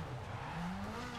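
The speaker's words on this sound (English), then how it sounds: "Let's try and drive fast to the finish." Rally car racing flat out in EA WRC, a continuous engine drone with a rising pitched tone as it accelerates toward the stage finish, steady and fairly close.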